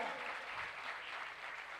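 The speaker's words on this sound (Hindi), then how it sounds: "जोरदार तालियां भाई।" Hall audience at a book launch claps together in a steady, even burst of applause, fairly faint and distant, with no talk over it.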